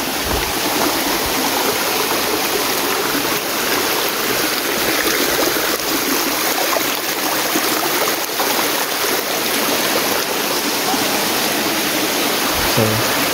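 A forest stream in the Ananthagiri Hills runs down through the trees, a loud, steady rush of flowing water close by that continues throughout without speech.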